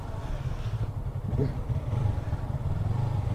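A motorcycle engine idles and rumbles nearby while the rider works the clutch and throttle, a low steady putter that rises slightly partway through.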